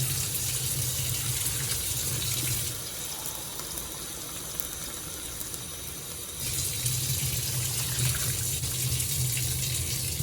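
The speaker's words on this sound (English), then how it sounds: "I'm going to add hot water in my season" Hot water pours steadily into a pot of frying seasoning with a rushing, gushing sound, briefly lighter in the middle before pouring strongly again, close by without talk.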